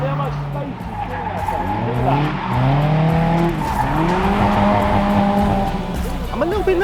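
A Caterham sports car drifting at a driving course, engine revving and rising and falling with tyre squeal and skidding, with someone talking over it.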